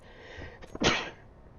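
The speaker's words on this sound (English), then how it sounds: "Okay, I had to sneeze." A single close sneeze with a short sharp intake followed by a loud burst, over faint background hum.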